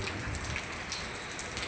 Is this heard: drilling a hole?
no